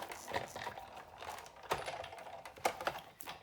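A card inside a 3D embossing folder on a platform cranked through an embossing machine: a short run of close, irregular clicks and mechanical ticks, with a few sharper snaps, fairly quiet and without talk.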